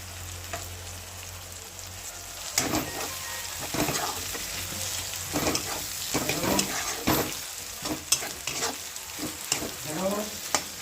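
Bell pepper sizzling as it is sautéed in a pan for pav bhaji, with steady frying hiss broken by repeated scraping and stirring strokes of a spatula, close and clear with no talk.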